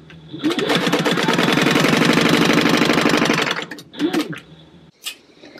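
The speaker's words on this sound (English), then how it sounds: "I'm just sewing them back to back like that" A sewing machine stitching fabric card slots back to back for a purse, a loud, fast, even run of about three seconds, then a short burst and a brief click, nearby and alone.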